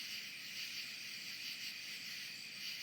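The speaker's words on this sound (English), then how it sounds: "it's going to be hard to hear with all these stupid crickets" Dense, continuous chorus of crickets chirping at night, a steady shimmering trill, fairly faint with no talk.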